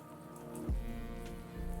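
Water poured into a hot pan of dumplings hits the metal with a sudden burst, then settles into a quiet, steady hiss and crackle of sizzling up close, with no talking.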